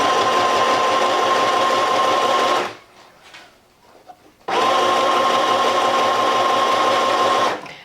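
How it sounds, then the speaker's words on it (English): A sewing machine stitches steadily around the seam of a drawstring bag, a loud continuous whirring run that stops for about two seconds with a few faint clicks, then resumes at full speed before halting. No one talks. "we're just going to sew all the way around using this edge as a guide"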